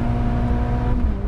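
A 2020 Toyota 86 GT with a 205-horsepower engine held high in the revs at full throttle on a race track, a steady loud drone with a sustained engine tone throughout.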